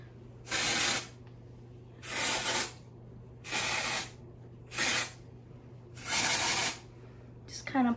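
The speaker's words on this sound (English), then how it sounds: "So next, I'll just take a little dry shampoo." Dry shampoo sprays from an aerosol can into hair in five close, hissing bursts of about half a second each, separated by short pauses, with a faint steady hum beneath.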